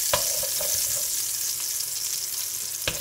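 Shallots fry in a pan while a wooden spoon scrapes the bottom to lift the browned bits, over a continuous hissing sizzle with occasional soft knocks; nobody speaks.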